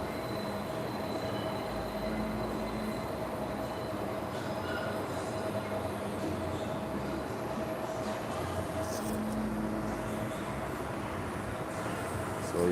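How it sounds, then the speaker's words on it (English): A J train subway pulling into a New York City station, steady rumbling roar of wheels on rails with faint squeals and a tonal whine, continuous and fairly distant throughout, no talking. "So you can see the next train coming."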